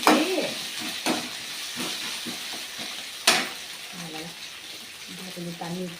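Prawns and onion sauté in a pan for a prawn fry, a steady close sizzle broken by sharp clacks of a spatula stirring. A voice speaks briefly near the end.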